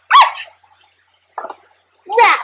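Cartoon dog barking in the Clifford the Big Red Dog video game, three short separate yips and barks with silent gaps between, close and clear.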